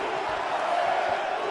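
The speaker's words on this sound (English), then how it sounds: "you hear the crowd react every time they come together" Steady crowd noise from a UFC video game fight broadcast, a continuous arena murmur swelling slightly as the fighters exchange strikes, with commentary speech mixed in.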